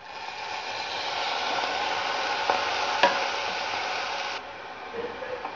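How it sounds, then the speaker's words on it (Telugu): Fenugreek leaves frying in a pan with onions and turmeric, giving a steady close sizzle with a few stirring clicks before it softens near the end. "మెంతి ఆకును బాగా వేయించాలండి."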